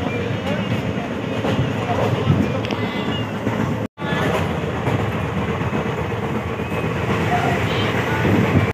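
A passenger train runs toward Bhubaneswar, its steady loud rumble and rattling clickety-clack heard from inside the carriage, continuous throughout with one brief dropout.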